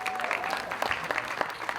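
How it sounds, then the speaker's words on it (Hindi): Audience applause at the Border 2 film teaser launch, a dense burst of clapping from a crowd that fills the moment, steady and fairly loud, with a faint voice or tone briefly audible at the start. "इसके लिए एक बार जोरदार ताली होनी चाहिए"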